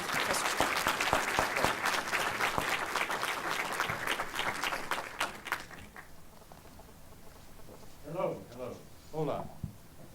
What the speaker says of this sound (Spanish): Me encantaría que me acompañara a darle una bienvenida con un aplauso al doctor Stake